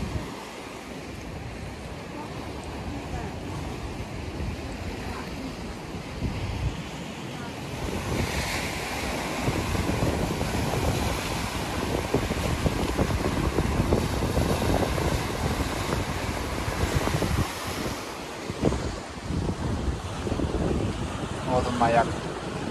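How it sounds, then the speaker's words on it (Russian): Ocean surf and gusting wind on the shore beside Fisgard Lighthouse near a port in Victoria, a steady broad wash that swells louder midway with wind buffeting the microphone, continuous and fairly close. "Океан."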